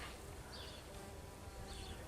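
Wild and domestic bees buzzing around a blackthorn tree in bloom, a soft continuous outdoor hum with a couple of insects drifting past a little closer.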